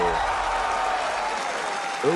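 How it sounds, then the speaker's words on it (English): Crowd cheering and applauding at the Resident Evil Requiem reveal during a game showcase, a dense continuous roar of clapping and voices, loud and steady. "And the crowd's going wild."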